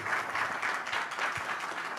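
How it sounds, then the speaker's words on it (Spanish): Audience applause follows the introduction of a speaker at a conference on the rule of law and human rights, a soft, steady wash of clapping from a distant crowd. "Aplausos, por favor, gracias."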